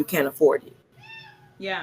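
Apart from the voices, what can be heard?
cat meowing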